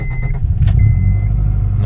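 A Honda engine in an Acura Integra cranks and fires on a start attempt, a loud, close, steady low rumble that holds through the clip, with a thin whine over it.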